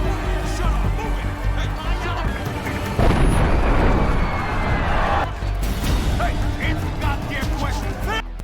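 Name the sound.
bomb explosion in film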